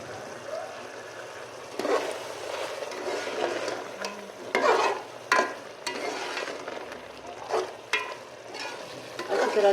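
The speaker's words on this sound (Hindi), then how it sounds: "अच्छी तरह से अब इसको चलाते जाएंगे और अच्छी तरह से मिक्स करते जाएंगे सारे चीज़ मसाले को।" Tomato and spice masala with dried coriander, softened tomatoes and kaleji stirred in a pan: repeated scraping strokes of the spoon over a low, steady sizzle, close up and moderately loud.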